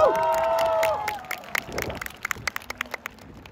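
A crowd at the CTBC Brothers' 2021 Chinese Professional Baseball League championship celebration, with a burst of cheering and whistling that thins into scattered, uneven claps from people nearby.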